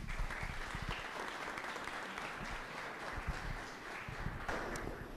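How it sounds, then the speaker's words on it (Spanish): Conference audience at a developer event in Bogotá applauds steadily throughout, a dense, even wash of many hands clapping at moderate distance with no pause. "un fuerte aplauso para ellos"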